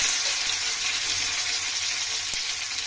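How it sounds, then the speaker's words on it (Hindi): Chilies and cumin sizzle in hot oil for an Indian potato-fenugreek bhujia, a steady bright frying hiss running evenly throughout, close and moderately loud with no talking. "कनी तेल गरम कर लिए हन और इमे मिर्ची और जीर दे दै छियै।"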